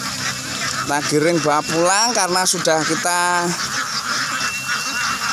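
White Peking ducks quack in loud, overlapping bursts as they are herded from a rice field toward a motorbike cart, with someone talking over the flock throughout.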